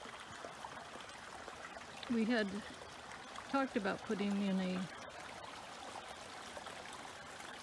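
Water trickles and pours continuously in a garden water feature waterfall at an English cottage garden, a soft steady babble heard under a person talking partway through.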